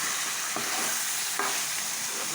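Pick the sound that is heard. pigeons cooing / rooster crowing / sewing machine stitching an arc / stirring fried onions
stirring fried onions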